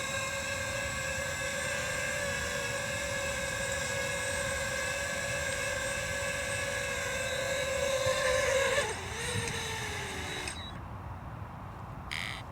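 A DJI FPV drone lands, its propellers giving a steady, high, tonal whine that holds and then drops in pitch and cuts out near the end, close and fairly loud, with no talk.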